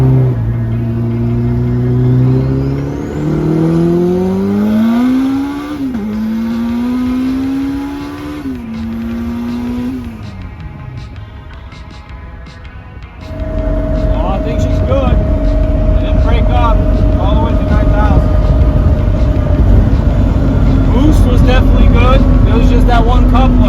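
A turbocharged all-wheel-drive Acura Integra engine revs up and down in rising sweeps, then settles into a loud, steady drone after the blow-off valve has been repaired, with speech heard over it.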